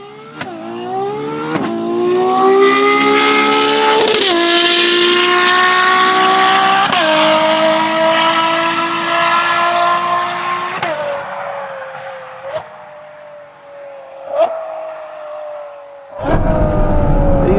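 A Novitec-tuned Ferrari 12Cilindri V12 with an aftermarket exhaust pulls hard down a straight, its loud engine note climbing through several gears with sharp shift breaks, then easing off into quieter revs and blips.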